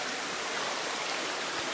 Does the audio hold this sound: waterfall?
yes